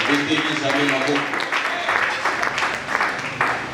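A church congregation at a Sunday thanksgiving service claps steadily in dense, continuous applause, mixed with crowd noise and voices throughout.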